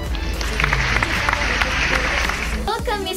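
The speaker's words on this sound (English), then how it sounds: "Let us welcome with a round of applause the representative of the Business World Organization" An audience claps to welcome guests, steady applause heard for most of the moment before a speaking voice comes in near the end.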